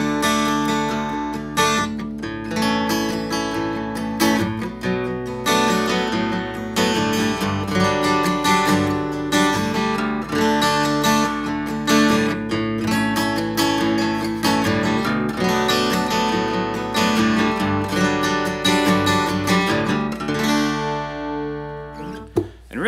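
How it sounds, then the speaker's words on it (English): Acoustic guitar strumming an Irish-style chord progression in 6/8 in DADGAD tuning, with raked downstrokes and ringing open strings, a steady lilting rhythm played close and alone for over twenty seconds before fading out. "if we put them all together as a progression in 6-8 with a little bit of that"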